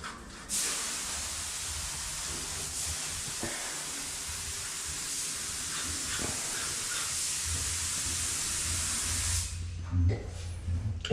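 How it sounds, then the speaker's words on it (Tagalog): A sprayer hisses in one long continuous burst while spraying underneath a bed frame and its panels indoors, fairly loud and close, with faint movement and voices around it before the hiss cuts off near the end. "Pinagpapatuloy na ni Jamil yung pag-spray sa baba"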